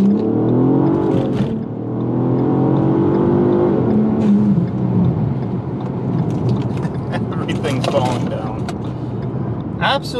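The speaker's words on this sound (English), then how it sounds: "So I'm going to launch the car, foot brake it, launch it" A car is held on the foot brake and then launched from a standstill for a 0 to 60 mph run with an electronic throttle controller fitted. The engine revs climb loudly and close, and a person talks over the noise.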